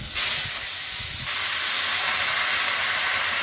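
Leafy nate greens dropped into a hot pan with cumin and poppy seeds, an abrupt loud hiss that settles into steady close sizzling, no voices.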